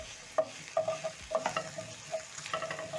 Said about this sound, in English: You're going to cook the onions until soft